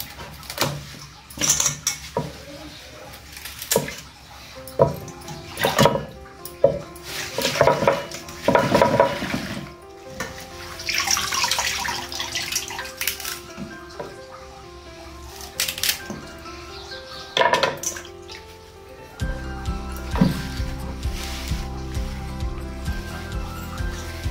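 A knife cuts red radish (mullangi) in a kitchen, with scattered sharp chopping knocks and utensil clatter close by, then a steadier low background noise near the end.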